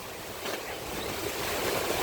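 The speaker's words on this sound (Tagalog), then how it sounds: "Ang lakas ng hangin sa dagat." Steady roaring wind gusting over the sea, with a broad rushing noise that builds slightly and continues without a break.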